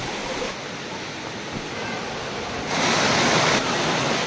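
Gabur Gabur Falls pours in a continuous broadband roar of falling water, loud and steady throughout, swelling slightly stronger toward the end.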